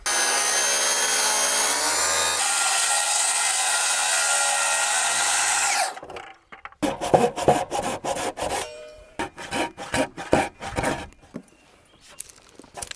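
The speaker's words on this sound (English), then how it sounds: "I'm setting the saw as deep as I can." A power saw cuts a rafter plumb cut in wood for a cabin roof, giving a steady, loud whine for several seconds. Quick, rasping hand-saw strokes follow in an irregular rhythm.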